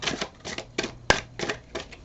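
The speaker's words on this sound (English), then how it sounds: "I'm going to shuffle" A brand-new tarot card deck is shuffled by hand in a series of quick rhythmic riffling bursts, close and crisp, with one sharper snap partway through and no voices.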